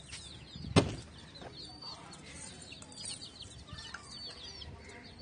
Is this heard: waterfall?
no